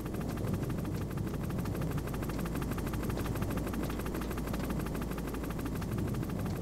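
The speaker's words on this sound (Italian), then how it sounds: "Dai, Snake, ma buttati contro l'elicottero" Steady helicopter rotor drone from a Metal Gear Solid battle on PS5, a continuous low thumping whir that stays loud and even throughout with no talk over it.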